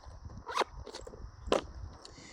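Zipper on the front compartment of an everyday-carry bag being pulled open, two short rasping zips about a second apart, close and fairly quiet against a soft room background.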